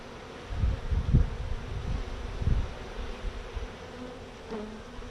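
Honey bees buzz around an opened hive during a beekeeping lesson, a soft steady drone with low rustling thumps, close by and fairly quiet.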